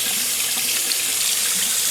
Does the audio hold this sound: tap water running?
yes